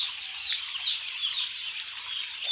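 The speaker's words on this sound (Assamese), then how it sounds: "ফাৰ্মৰ পোৱালিবোৰ আজি প্ৰথম দিন অলপ আগত আহিছে" Newly arrived farm chicks on their first day chirp in a dense, continuous high peeping chorus, close by, with a few brighter individual cheeps standing out and no talking.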